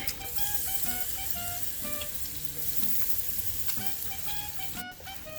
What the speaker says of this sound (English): In this oil, we're gonna crush in about 6 cloves of garlic